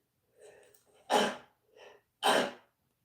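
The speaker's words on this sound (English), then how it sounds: "Sorry about the sneeze." Two sharp, close sneezes, each preceded by a quick inhaled breath, loud and abrupt against near silence.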